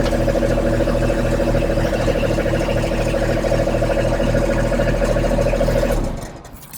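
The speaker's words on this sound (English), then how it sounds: "This is a much louder engine as well." A Kubota D1305 diesel engine on a Kubota SCL1000 compact track loader runs loud and steady with a buzzy, droning tone, then shuts off and winds down near the end.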